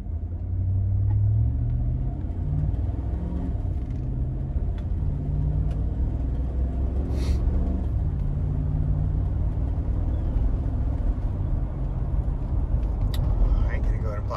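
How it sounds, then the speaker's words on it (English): A 2011 Cadillac Escalade ESV on a test drive, with a steady low engine rumble and road noise from inside the cabin that continues throughout, under a person's talking. "Take it on a quick test drive."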